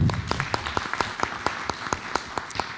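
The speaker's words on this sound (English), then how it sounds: "give Catherine a round of applause" A small audience at a school board of education meeting claps for a student board member, the individual hand claps distinct and fairly evenly spaced, moderately loud and close.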